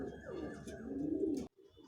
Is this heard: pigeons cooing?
yes